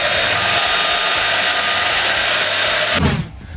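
A STIHL battery-powered landscaping tool runs with a steady, loud airy whoosh close by, then cuts off abruptly near the end as the motor winds down.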